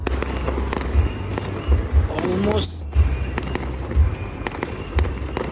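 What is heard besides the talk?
fireworks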